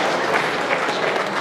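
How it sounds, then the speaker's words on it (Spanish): A village patron saint festival audience gives the mayor steady, dense applause. Many hands clap in an even, continuous wash of moderate loudness. "un fuerte voto de aplausos al señor alcalde"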